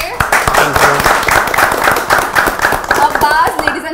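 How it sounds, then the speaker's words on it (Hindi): Loud, energetic clapping and applause from a live audience at a comedy show, dense sharp claps throughout with voices and cheers mixed in. "जोरदार तालियां हो जाए"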